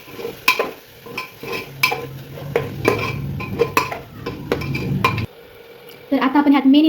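A spoon clatters and scrapes in a pot while red chili, turmeric and Gharkul mutton masala are stirred in, a string of sharp metallic knocks over low frying, ending in a brief pause and a voice.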